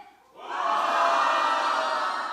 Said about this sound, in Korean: 우리가 함께 큰 소리로 함성을 외쳐야 합니다